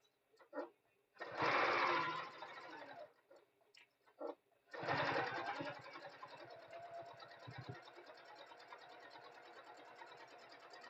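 A sewing machine stitches through fleece for a tote bag, running in two bursts of rapid mechanical whirring with a brief pause and a quieter taper afterward, close and fairly soft with no talk.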